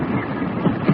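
Train going by: a short, steady rumbling roar of rolling stock close at hand, with a couple of faint clunks from the wheels and no talk.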